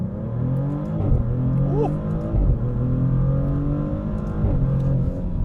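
A Maserati GranTurismo Trofeo with a twin-turbo V6 and all-wheel drive pulls hard on a canyon road, its engine note rising and surging loudly through gear changes while a voice exclaims briefly over it.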